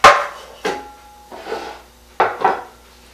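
Bake Joy cooking spray hisses onto cake pans in a home kitchen, five short close bursts in an uneven rhythm, each loud and airy with a quick fade.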